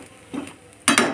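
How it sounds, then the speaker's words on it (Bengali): Metal lid set over a pot of chicken cooking on the stove, a few quick close clanks and scrapes in a short burst, the last ones the loudest. "এবার এটাকে ঢেকে দেবো"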